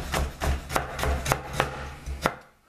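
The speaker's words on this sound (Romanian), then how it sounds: "Țelina, morcovul și sfecla roșie le voi tăia cu bulețe." Celery, carrot and beetroot chopped into small cubes on a cutting board for a ramen noodle soup, about eight sharp, evenly paced knife strikes, close and clear with no talking.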